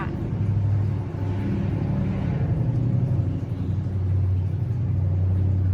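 A car engine rumbles low and steady nearby, a continuous droning hum with slight swells in intensity.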